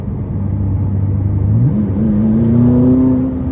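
A 2017 McLaren 570S rated at 664 hp accelerates hard in sport mode, its engine note climbing in pitch and swelling in loudness as the revs rise, heard close and alone.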